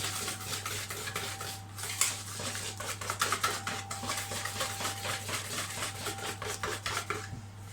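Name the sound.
beating yogurt cake batter in a bowl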